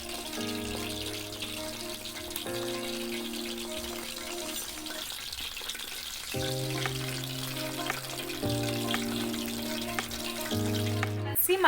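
Sausages fry in hot oil with a steady loud crackle and sizzle, broken by brief scraping stirs and a clink near the end, with background music throughout.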